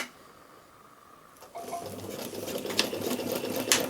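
A sewing machine back stitches fabric for a utility bag, starting after a quiet moment with a rapid, steady mechanical patter that stays close.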